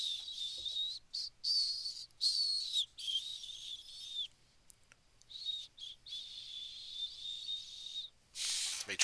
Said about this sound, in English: Me trying to whistle.